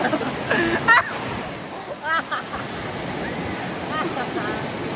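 Strong ocean waves rolling onto a beach, a loud steady wash of surf and spray with the roar swelling and fading, while people chatter and exclaim excitedly nearby.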